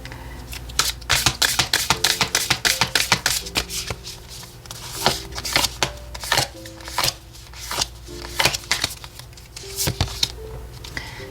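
Oracle cards being shuffled by hand, with repeated crisp riffling bursts and soft card taps in quick clusters, close and fairly loud, separated by brief pauses.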